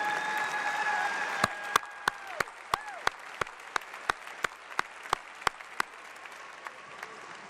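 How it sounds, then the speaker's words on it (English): Audience at the AIPAC 2019 conference applauding students, a steady wash of clapping in a large hall with a few sharp, evenly spaced loud claps standing out, fading slightly toward the end. "Tonight, students, stand up. Let us applaud you for being here"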